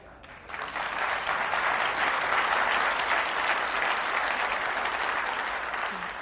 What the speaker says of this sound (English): Glad you applauded for that.